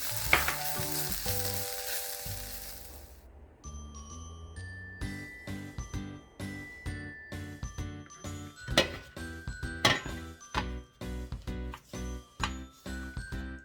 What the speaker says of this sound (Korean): 양파가 꽤 오랜 시간 볶아서 이렇게 노릇해주면 이때 버섯 잘게 다진 버섯을 넣고 역시나 숨 죽일 때까지 볶겠습니다